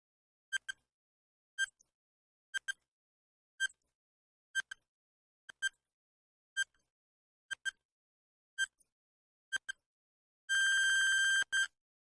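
A quiz countdown timer ticks with sharp electronic beeps, mostly in pairs about a second apart, ten times in a row, then a loud sustained buzzer sounds at the end. No voices are heard.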